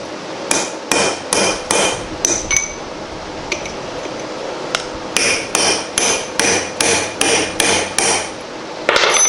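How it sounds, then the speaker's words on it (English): Repeated hammer blows driving a taper pin out of a Reed 602 bench vise during restoration: two short bursts of sharp metallic strikes, then a longer steady series of about a dozen evenly spaced ringing hits, close and loud, with no talking. "So we got to knock that taper pin out."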